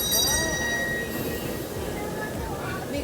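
A train prepares for boarding, heard as a rumbling rail hum with faint high metallic squeal tones early on, moderately quiet, with some background voices.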